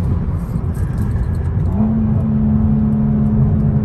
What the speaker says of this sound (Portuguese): Seis cilindros, o barulho é bonito, né, velho?